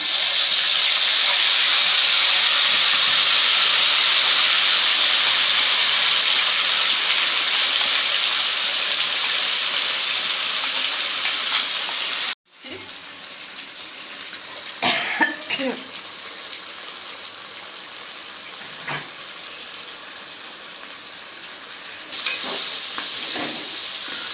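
Ground masala paste hits a hot pan for mutton curry, giving a loud, steady broadband sizzle that runs for about twelve seconds, then cuts out, leaving quieter stirring, scraping and occasional clinks.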